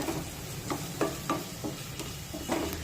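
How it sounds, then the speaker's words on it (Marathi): Spices being sautéed in oil in a pan over a low gas flame, a soft steady sizzle broken by a series of regular scraping stirs of a spoon, fairly quiet and close. "आता हे सर्व मसाले व्यवस्थित परतून घेऊया।"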